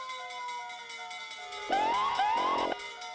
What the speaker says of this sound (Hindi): फायर ब्रिगेड की आवाज कहाँ से आ रही है?